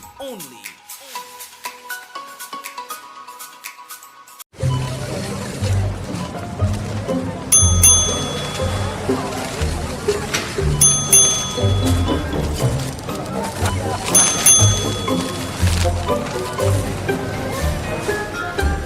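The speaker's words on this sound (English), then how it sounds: "What's that ding-ding noise?" Bright ding-ding chimes ring out several times over busy background chatter and noise, following a short stretch of music.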